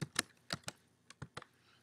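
Keys tapped on a Mac computer keyboard while typing in MS Word, about seven or eight separate soft clicks in an uneven rhythm, close and fairly quiet with no talking.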